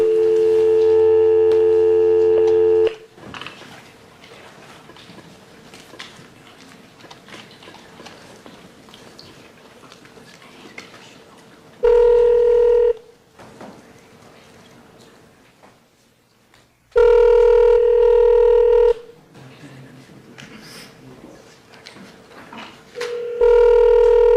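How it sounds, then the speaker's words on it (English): Telephone call placed from a courtroom hearing: a steady ringback tone sounds in three long bursts separated by quiet gaps with faint line noise, ending on a fourth ring as the clip cuts off. "he asked that I call him on the phone. So let me go ahead and do that right now."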